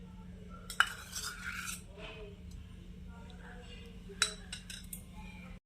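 A metal spoon clinks sharply against a kadhai twice while ghee is spooned in, with soft scraping between the clinks. A low hum runs under the sounds and faint speech is heard.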